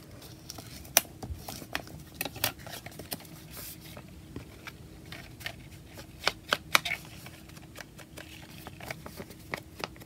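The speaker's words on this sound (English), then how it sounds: "Let's get that nice and creased again." A folded paper page for an altered envelope insert is creased and smoothed by hand, giving a close, irregular run of crisp rustles, taps and scrapes with no talking.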